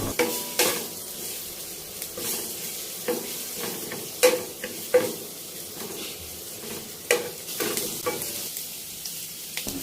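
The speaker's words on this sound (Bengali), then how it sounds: "আদা আর রসুনটা একটু নেড়েচেড়ে আমি ভেজে নিচ্ছি 1 মিনিট।" Ginger and garlic paste fries in oil over low heat for a shrimp chili dish, stirred with irregular clinks and scrapes of a utensil against the pan over a steady close sizzle.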